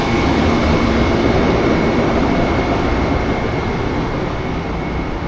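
Amtrak's Auto Train, the longest passenger train in America, carrying cars between Virginia and Florida, gives off a loud, steady, broadband rumble. The roar holds even and close throughout, with no talking.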